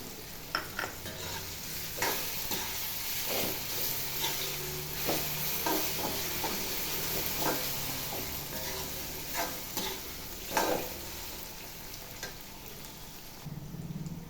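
Grated raw mango frying in a pan, a soft continuous sizzle with intermittent scraping stirs, close and fairly quiet with no talking.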